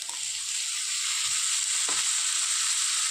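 Chopped bitter gourd goes into a hot pan for a Kerala-style egg thoran, setting off a steady, close sizzle with a brief scrape of stirring partway through.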